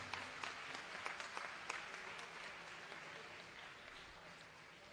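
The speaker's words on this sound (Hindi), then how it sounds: "और आप लोग तालियों से अगर इसका स्वागत करें तो मैं खुश रहूंगा।" Audience applause at a Hindi event before a Ganesh Vandana, steady crowd clapping throughout, with a few sharper claps standing out near the start.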